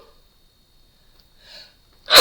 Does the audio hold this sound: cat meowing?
no